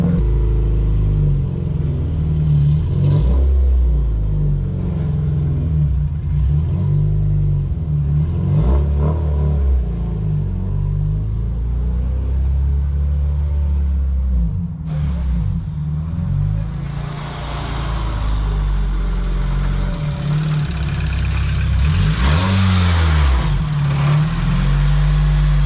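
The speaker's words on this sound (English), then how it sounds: "The light and flywheel brings up the RPM really quickly." A Honda CRX with an LSVTEC swap, light flywheel and custom axle-back muffler revs repeatedly, loud and close, the engine climbing and falling quickly in several bursts, rising to a harsher, higher-pitched run near the end.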